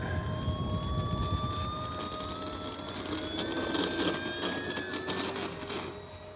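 A small model airplane engine whines steadily at a distance, its pitch drifting up and down as it passes, with constant background hiss.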